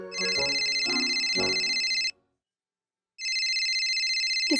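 A shrill electronic phone ring in two bursts separated by a pause, loud and close, with brief voices under the first burst.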